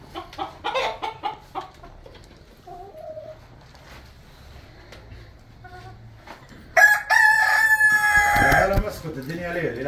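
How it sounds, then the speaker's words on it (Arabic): Ornamental Wyandotte chickens cluck in short bursts, then a loud rooster crow rings out close by, with more squawking afterward. "هذا دجاج"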